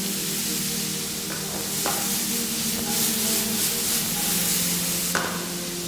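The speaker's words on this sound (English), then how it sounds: "You want to hear that nice sizzle from your onion." An onion fries in a pan for a vegan mushroom bolognese, giving a steady, close sizzle with faint stirring and a few light utensil taps. A low hum sits underneath, and nobody speaks.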